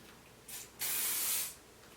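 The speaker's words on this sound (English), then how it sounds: "I just spray it in." A dry conditioning spray for hair hisses from its can in two close bursts, a short puff followed by a longer spray lasting under a second.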